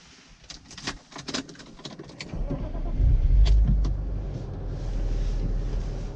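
A BMW 323ti with a 2.8-litre M50 straight-six and unmodified exhaust pulls away, its low engine drone building and holding steady after a few seconds of quieter clicks and cabin noises.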